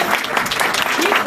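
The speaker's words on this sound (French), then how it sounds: "On applaudit Florence Sestac." Applause from the audience at a comics award ceremony as a laureate steps up, steady dense clapping filling the hall throughout, with a voice faintly audible underneath.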